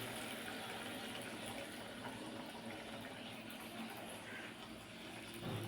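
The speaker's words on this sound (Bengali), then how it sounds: "এবার গরম জলটাকে ঢেলে দিলাম" Hot water poured into a cooking pot of pointed gourd and lentil-cake curry, a steady, moderately loud gushing and splashing that runs unbroken for the whole stretch.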